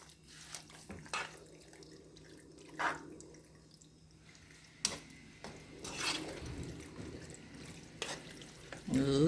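Homemade Alfredo sauce stirred in a pan, giving soft wet scraping and occasional utensil taps against the metal, with a gentle bubbling sizzle underneath and a few brief sharper clinks, fairly close and moderately quiet.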